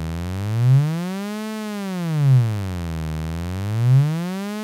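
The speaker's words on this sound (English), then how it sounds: "I've got an example with a synth tone with some really wide vibrato on it." Synth tone with very wide, slow vibrato sweeping up and down in pitch through a fixed EQ boost, swelling louder three times as it passes the boosted band; loud, steady and alone.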